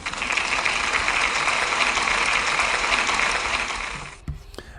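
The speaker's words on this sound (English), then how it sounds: "Can we give Ella a big round of applause, please?" Applause from a school assembly audience celebrating a pupil's maths work, a steady dense wash of many hands clapping for about four seconds before fading out abruptly.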